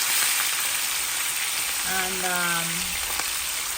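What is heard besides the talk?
red snapper fish frying in olive oil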